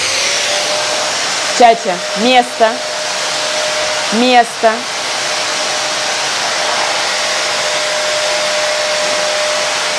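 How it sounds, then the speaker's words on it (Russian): A vacuum cleaner drones steadily and loudly throughout, while a person gives a few short spoken commands to a dog near the start. "Включаю пылесос."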